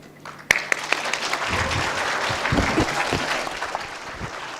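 Audience applause at an international science, technology and education conference, honoring Professor Morita after his talk: dense, sustained clapping from a sizable room that swells after a sharp opening clap and carries on steadily, with a faint voice briefly underneath.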